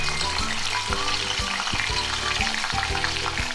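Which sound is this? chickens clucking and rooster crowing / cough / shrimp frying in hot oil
shrimp frying in hot oil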